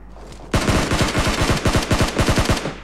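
Rapid automatic gunfire from the mobile battle-royale game PUBG Mobile rattles off in a loud, sustained burst of evenly spaced shots, with a brief pause before a second string of fire.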